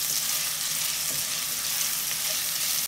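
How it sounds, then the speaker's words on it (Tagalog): Carrots frying in a non-stick pan give off a dense, steady hiss and sizzle, close and loud, unbroken by voices. "Una nating lutuin yung carrot dahil matigas ito."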